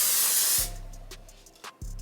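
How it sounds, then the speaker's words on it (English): Close aerosol hair spray hisses loudly onto a wig in one long burst, then cuts off, leaving a quiet room with faint clicks. "I'm just gonna go ahead and spray this first before I even try to pull it."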